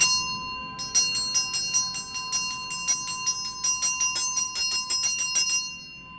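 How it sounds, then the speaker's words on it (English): A small hand bell rung steadily for a sacral chakra healing, its bright metallic strikes repeating in a quick, even rhythm for about five seconds after a brief quiet start, close and clear with no talking. "I'm going to ring a bell for the sacral chakra."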